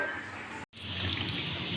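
Water poured from a jug into a cooking pot for rice, a steady splashing rush that stops briefly partway and then resumes at full strength, close and fairly loud.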